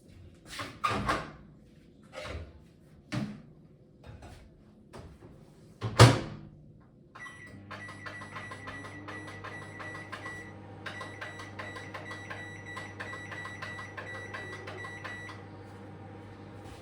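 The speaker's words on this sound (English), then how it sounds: "So it will cook for 10 minutes in the microwave." A microwave door clunks and clatters a few times, then the oven starts and runs with a steady low hum while cooking maize and wheat flour fufu, alone and fairly quiet.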